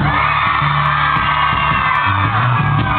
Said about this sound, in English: everybody in this room, let me hear you scream